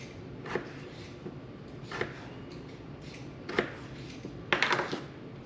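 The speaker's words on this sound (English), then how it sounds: "now we are just going to slice these" A knife slices through raw potatoes, cutting them into quarter-inch strips for homemade french fries, with a few sharp, separated chopping knocks and a quick cluster of cuts near the end over a quiet background.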